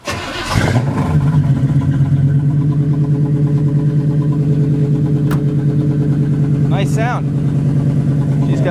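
A 1937 Ford Coupe hot rod with a steel body and a 350 small-block V8 on Flowmaster exhaust cranks and catches, then settles into a loud, steady, throbbing idle close by, with brief voices heard over it.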